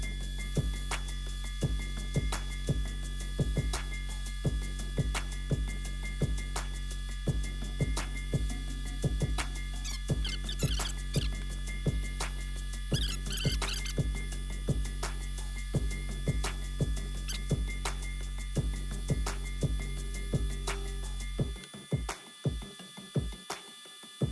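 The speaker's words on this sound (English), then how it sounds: "once I get all these machines and air compressors and ventilation going" Workshop machines, air compressors and ventilation run together in a steady electrical hum with a regular throbbing pulse, continuous and fairly loud, before the drone cuts off and a few irregular knocks follow.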